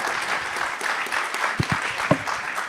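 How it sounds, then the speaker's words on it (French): Audience applause after a round-table panel at a patient-experience results presentation, steady clapping from a moderate crowd with a few sharper, closer claps standing out near the end. "on peut les applaudir"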